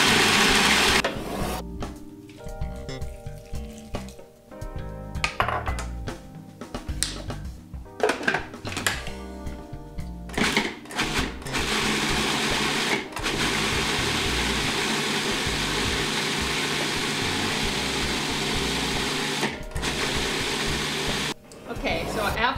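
A food processor grinds pumpkin seeds in stop-start pulses that give way to a long, steady whirring run, loud and close, with clattering bursts and a voice talking in places.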